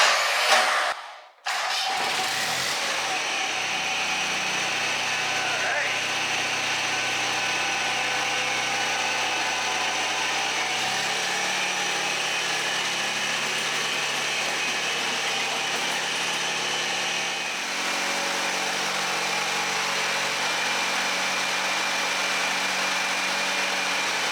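A Honda 4518 riding lawn mower engine runs steadily close by for a long stretch, a constant droning hum after a brief thump at the start, no talking.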